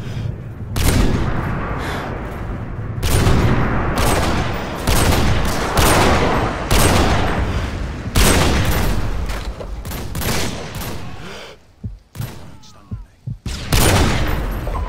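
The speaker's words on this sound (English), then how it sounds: "Friendly airstrike inbound" Heavy gunfire and airstrike explosions in the video game Modern Warfare 2, with dense sustained bursts and booming blasts that roll on almost without pause and drop away briefly near the end.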